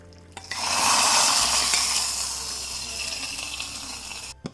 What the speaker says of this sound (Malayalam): ഇപ്പോൾ നമ്മളുടെ മാവ് എടുക്കാൻ നേരം ഇതുപോലെ നന്നായിട്ട് ഇളക്കി കൊടുക്കണം.